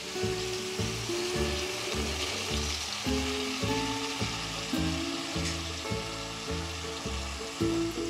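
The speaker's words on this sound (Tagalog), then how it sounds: "At hahaluin lamang natin ito hanggang sa maghiwalay ang sabaw sa laman" Sizzling food being stirred in a hot pan, a steady crackling fry broken by repeated rhythmic scraping strokes of a utensil, close and loud with no talking.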